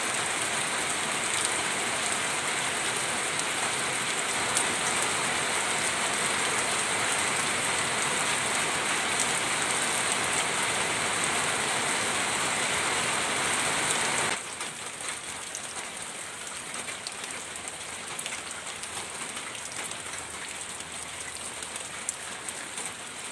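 Steady rainfall pattering on surfaces, a dense, even hiss that continues throughout and becomes noticeably softer partway through.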